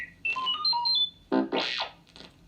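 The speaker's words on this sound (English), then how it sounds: "You will know it is time to turn the page when you hear R2-D2 beep," R2-D2 from Star Wars chirps a quick run of warbling electronic beeps and whistles as the page-turn signal on a read-along record, followed by a burst of rising, sweeping tones, clear and alone.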